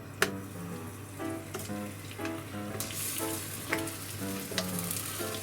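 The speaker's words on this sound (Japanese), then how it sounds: "ちょっと気持ち多めの油で揚げ焼き状態にしていきます" Potatoes shallow-frying in a generous layer of neutral oil in a pan over medium-low heat, a steady close sizzle with occasional crackles and light stirring clicks throughout, no talk.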